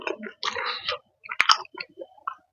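Crispy, soft-cooked buffalo skin is chewed close up, with crunchy, squishy bites in short irregular bursts and a sharp click in the middle. The chewing stands alone without talk.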